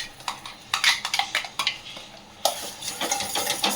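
Spoon stirring turmeric into hot oil in a pan, a series of close scraping and clinking strokes with a faint sizzle beneath, no talking.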